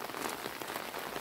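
Steady rain falls on a vegetable garden planted with crops such as sweet potatoes and green onions, a dense continuous hiss of drops pattering close by with no voices.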